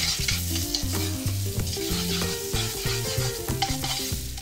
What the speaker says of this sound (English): I like to toast it off on the bottom of a hot pan.